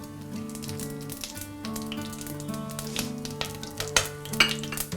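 Whole spices (cinnamon, bay leaf, star anise, cardamom, cloves, pepper and cumin) sputtering in hot oil for chicken pulao, a steady close sizzle with irregular sharp pops growing more frequent, under a faint steady hum.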